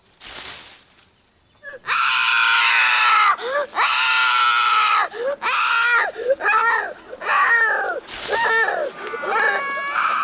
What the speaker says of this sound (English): the kicking and screaming and carrying on